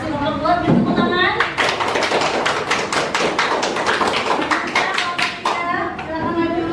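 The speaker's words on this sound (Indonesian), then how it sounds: "Ya, terima kasih kelompok 2. Beri tepuk tangan." Classroom applause for a student group presenting in a teacher training session, with a run of distinct sharp hand claps and taps in a steady rhythm, mixed with children's voices and speech around it.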